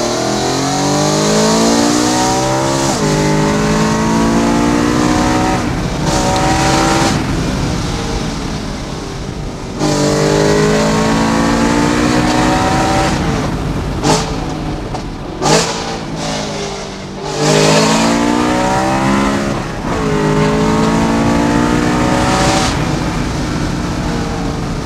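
A BMW M3 E92 with DKG gearbox roars close by, revving hard and accelerating in repeated rising surges with almost no pause.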